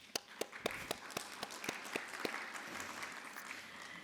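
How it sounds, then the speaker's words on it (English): A crowd applauds steadily at a middle school science fair, with sharp individual claps standing out at first before blending into a continuous, moderately distant clapping. "please go ahead and give yourselves a round of applause."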